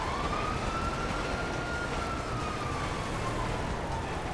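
An ambulance siren wails in the GTA 5 video game, a steady rising and falling tone over a dense constant rumble of engine and road noise, with no talking.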